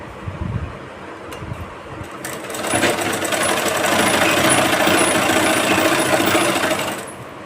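A sewing machine runs steadily while stitching a blouse, starting with a few short bursts and then settling into a continuous close, even whirring hum with no talking.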